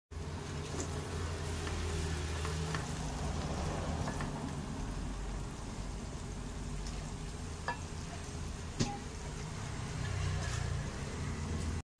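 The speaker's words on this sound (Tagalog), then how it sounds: "Igisa na natin." Garlic sautéing in butter and sunflower oil in a pan, a steady close sizzle and crackle that holds evenly throughout, with a few faint clinks of stirring.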